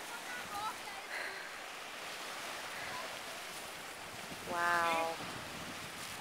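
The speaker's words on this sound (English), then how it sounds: "Black sand beach." Surf rolls gently onto a black sand beach lined with palm trees, a soft, continuous wash mixed with wind noise on the microphone, while a voice briefly exclaims over it.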